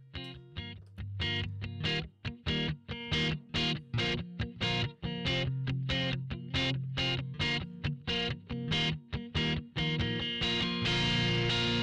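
An electric guitar played through a Sansamp preamp plugin in Pro Tools, with the input stage pushed into preamp distortion, sounds as a run of distorted chords in a steady rhythm, each struck and cut short, loud and upfront with no talk.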